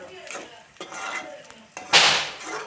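Onions sautéing in a pan, heard as a few scraping, stirring strokes with a louder hissing sizzle burst near the end. Faint voices may sit underneath.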